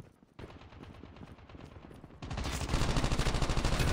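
A gun firing in Call of Duty Mobile multiplayer: a rapid, evenly spaced stream of automatic shots that grows louder and denser partway through, close and continuous to the end.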